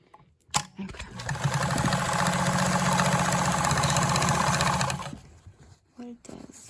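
A vintage Super zigzag domestic sewing machine runs steadily for about four seconds, a loud, even mechanical whir and rapid stitching rattle, with brief clicks and handling noises before and after.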